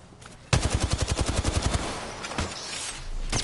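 Automatic gunfire in the video game Apex Legends, a loud rapid burst of about a dozen shots followed by a few scattered single shots.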